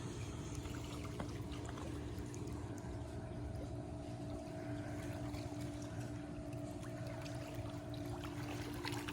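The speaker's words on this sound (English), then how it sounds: "There's another boat coming in that direction." A boat motor drones steadily at a distance, a faint continuous hum over the wash of water, at Santee National Wildlife Refuge, South Carolina.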